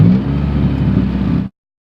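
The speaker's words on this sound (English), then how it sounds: "I went to go punch it, and the idle would not drop." A Honda Civic EK fitted with an H22 engine holds a high, steady idle that refuses to drop, a loud, even engine drone close by that cuts off abruptly.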